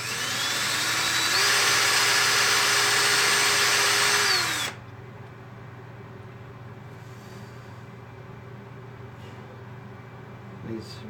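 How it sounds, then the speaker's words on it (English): A power drill bores into Spectraply pen blanks, a loud whining motor that ramps up in pitch, holds for a few seconds, then cuts off abruptly, leaving quiet room noise and a faint knock near the end. "start drilling and it starts to dig in there."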